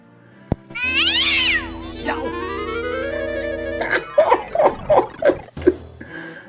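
A cat in the PC game Indiana Jones and the Fate of Atlantis lets out a long, wavering meow, then a quick run of five or six short, sharp mews. It sounds close and clear, with no talk over it.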